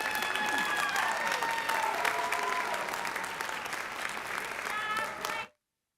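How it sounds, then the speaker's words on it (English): Audience applause at a school board of trustees meeting honoring students, a dense, steady wash of clapping from a crowd lasting over five seconds, with faint voices mixed in before it cuts off abruptly. "Let's give them another round of applause for their accomplishments."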